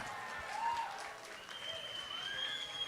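A church congregation claps at the close of a worship service, a fairly soft, continuous patter of many hands heard from a distance, with a few thin whistle-like tones drifting above it.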